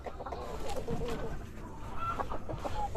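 Dekalb Brown laying hens cluck steadily in a poultry house where eggs are being gathered, with several overlapping birds close by over a constant busy background of flock noise.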